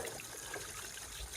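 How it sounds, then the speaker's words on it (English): Steady, soft trickling and splashing of water running over a turning water wheel outdoors, continuous and fairly faint with no voices. "the water wheel just keeps turning"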